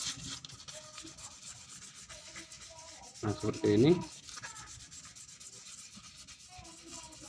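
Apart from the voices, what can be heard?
sanding a Honda Beat FI scooter starter pulley with sandpaper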